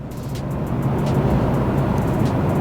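A 2022 BMW 330i with a four-cylinder engine accelerates in a steady, loud, broad roar, heard from close inside the car, with road noise underneath and no talk.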